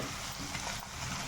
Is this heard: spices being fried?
yes